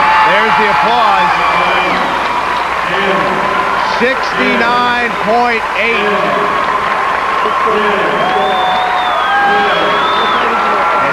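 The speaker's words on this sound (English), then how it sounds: "There's the applause." An arena crowd at a 1992 US Open pro figure skating event claps and cheers loudly and continuously with whoops, while a commentator talks over the noise throughout.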